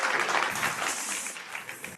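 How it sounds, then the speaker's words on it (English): A conference audience breaks into broad, steady applause for a speaker coming onstage, a dense wash of many hands that tapers off toward the end, with no voices over it. "No music, just an applause."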